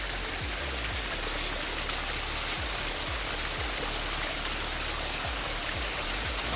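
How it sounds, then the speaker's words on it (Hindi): A small forest waterfall pours in a steady, broad rush of falling water, constant and fairly close, with no voices over it. "तो यहाँ पे एक झरना है, बहुत बड़ा नहीं है लेकिन झरना तो झरना ही है"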